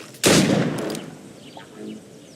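A sharp gunshot cracks loudly in Assassin's Creed Rogue, followed by a decaying rumbling echo and faint scattered noise afterward.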